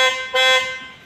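A faulty horn on a 2019 MG ZS sounds one loud, harsh, buzzing honk that briefly strengthens midway, then fades weakly, alone and close by.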